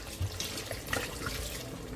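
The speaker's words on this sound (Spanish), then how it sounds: "Vamos a echar el agua." Water is poured into a cooking pot of pork loin in sauce, a steady splashing flow running throughout at moderate loudness.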